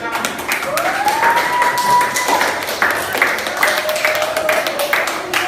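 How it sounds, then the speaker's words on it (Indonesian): Classmates in a school classroom clap after a group presentation, a brief burst of scattered hand claps and taps that comes through under a voice and a sustained tone. "Oke, berikan tepuk tangan."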